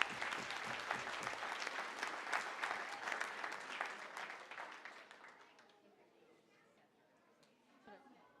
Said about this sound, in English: How about another round of applause as they exit?